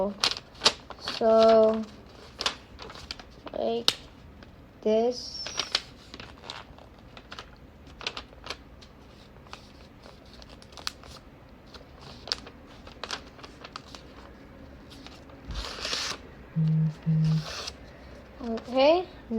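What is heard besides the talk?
folding a square sheet of paper into a triangle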